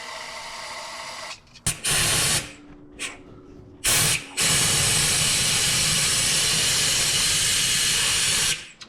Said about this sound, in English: And we drench it in brake clean.